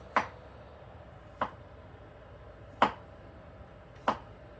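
A knife slices through pickled beets on a board in four sharp, evenly spaced chops, close and crisp against a quiet background.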